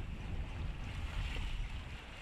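A large container ship passes offshore, its bulbous bow throwing up a big bow wave; a steady low rush of water and wind roars continuously and fairly loud, with no talking.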